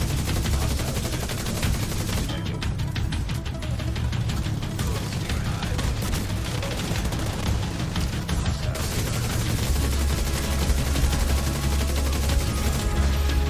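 Rapid gunfire from The Division 2 video game, dense continuous bursts of shots layered with game effects, loud and close throughout.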